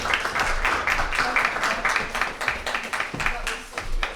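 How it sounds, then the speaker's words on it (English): An audience at a spoken word poetry slam in Fitzroy Library, Melbourne applauds as a poet walks to the stage, giving dense, sustained clapping with a few cheers and a voice speaking over it. "let's applaud this poet all the way to the stage"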